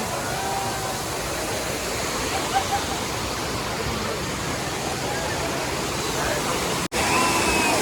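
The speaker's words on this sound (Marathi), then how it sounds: "हा खूप मोठा वॉटरफॉल आहे" A large waterfall at Malshej Ghat roars in rain and fog, a dense, constant rushing wash of water with a brief dropout near the end and a voice faintly under the noise.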